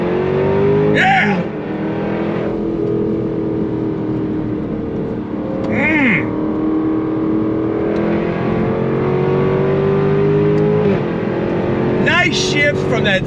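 A supercharged 2024 Jaguar F-Type R 75 engine revs hard and pulls through the gears of its ZF 8-speed, its roar rising and dropping with each shift, loud and close.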